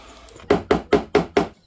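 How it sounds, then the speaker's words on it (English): Knocking on the body panel of a BMW G31 to push out a dent: five loud, evenly spaced hollow thuds in quick succession, close up, with no talking. "it's a bit scary to be knocking like that on the paint"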